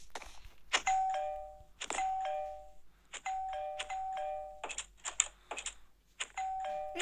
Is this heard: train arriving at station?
no